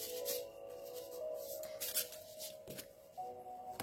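Tarot cards riffle and slide softly, with quiet shuffling rubs and a few crisp flicks as cards are drawn, close and faint in a quiet room.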